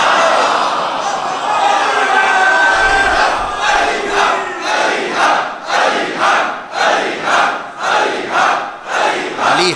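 A large crowd at a religious gathering chants slogans together, loud and close, first as a dense roar and then in rhythmic repeated bursts of shouted phrases.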